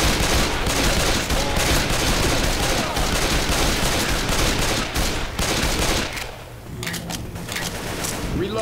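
Pistol gunfire in the zombie shooter Left 4 Dead 2, a dense stream of loud close shots with game noise that thins out near the end.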